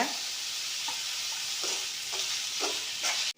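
Onion and tomato with rock salt sauté in a pan for a restaurant-style chicken gravy, a steady close sizzle broken by a few soft scraping stir strokes.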